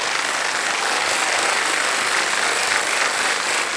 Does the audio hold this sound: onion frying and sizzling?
no